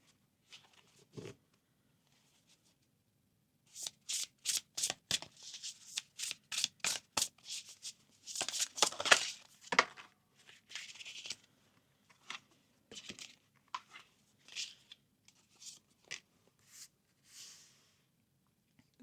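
Oracle cards being shuffled by hand, a long series of quick riffling flutters and soft slaps, close and fairly quiet, with short pauses between bursts.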